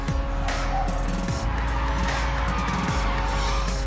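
Ford Mustang Boss 302 drifting, a continuous loud tire squeal over a revving engine, heard from nearby with no talking.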